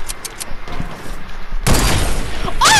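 Fortnite sniper rifle no-scope headshot, heard as a sudden loud crack and boom partway through, following quieter shuffling and game noise and ending in a rising whistle-like effect.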